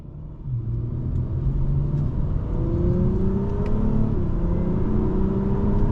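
A 2022 Acura TLX Type-S accelerates hard, its engine note rising steadily in a loud, continuous rumbling growl with audible shifts as the revs climb and drop.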